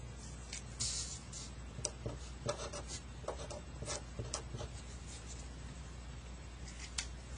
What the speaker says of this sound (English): And I will write that on my paper.